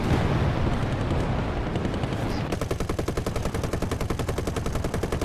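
Machine guns on a P-26 Peashooter fire during a War Thunder dogfight: a dense, loud burst that settles into a fast, evenly spaced rattle of shots over steady engine drone.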